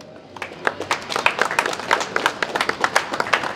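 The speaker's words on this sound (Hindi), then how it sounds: "एक बार जोरदार तालियां प्लीज" Brief applause for judges at a renewable energy award event, a scattered crowd clapping in an irregular patter of distinct claps that stays moderate and even throughout.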